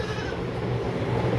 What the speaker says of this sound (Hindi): ये एक टेढ़ी गुलाबी बकरी है